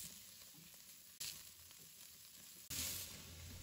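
Celery, red pepper and onion stir-fried with ginger and garlic in a wok, a steady close sizzle with stirring and two sharp surges as food hits the hot oil, no talk.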